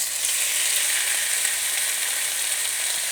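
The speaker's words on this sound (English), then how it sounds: "I'm putting my shrimp in a hot pan with olive oil." Shrimp fry in olive oil in a hot pan, a loud, dense, even sizzle that holds steady and close without a break.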